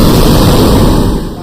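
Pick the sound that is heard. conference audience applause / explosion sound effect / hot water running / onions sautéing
explosion sound effect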